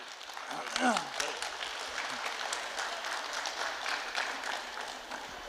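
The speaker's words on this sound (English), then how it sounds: "Let's give them a round of applause." Elders at a youth economic development conference receive a round of applause, a fairly quiet, steady patter of clapping from a modest crowd, with a short spoken exclamation near the start.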